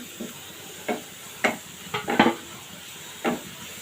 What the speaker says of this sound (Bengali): এটা আমি ব্রাউন কালার করে ভেজে নিব